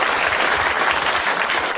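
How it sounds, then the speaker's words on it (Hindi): A stand-up comedy audience claps in a steady, dense burst of applause, close and loud, with no talk over it. "एक बार ताली बजाओ इसके लिए सब लोग।"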